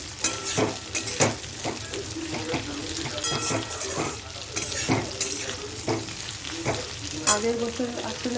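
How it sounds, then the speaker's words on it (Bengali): Vegetables frying in hot oil for a puja meal, a steady crackling sizzle broken by frequent rhythmic scrapes and knocks of the stirring spoon against the pan. "এই হচ্ছে তেলের মধ্যে দিয়ে এগুলো ভাজছি।"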